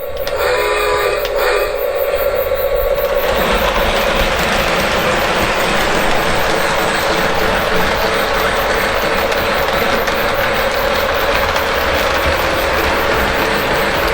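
A model train runs steadily on a layout through a yard, giving a continuous mechanical ratcheting, gear-like whir with a hiss that stays even and close for the whole stretch, with no voices.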